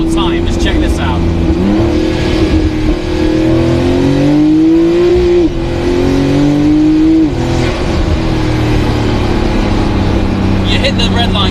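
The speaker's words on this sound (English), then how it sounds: "You hit the red line quickly. For a turbo car, it actually revs very fast." Fenyr Supersport turbo hypercar engine revs hard, pitch climbing and dropping in several loud sweeps up toward the red line, a close, continuous snarl with brief shifts between pulls.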